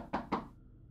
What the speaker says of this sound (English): Then there was another knock at the window.